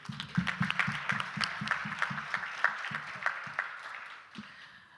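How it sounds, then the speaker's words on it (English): Audience at a university medicine-week event claps for a medal-winning student, a steady patter of many hands that stays fairly quiet and distant before tapering off near the end. "Let's clap for him"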